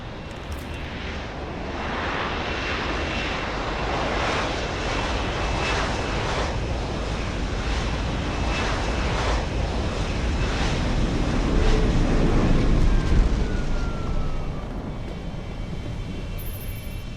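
A loud aircraft engine in the game Deus Ex: Human Revolution drones and swells as it approaches, rumbling steadily for a long stretch with wind-like noise underneath.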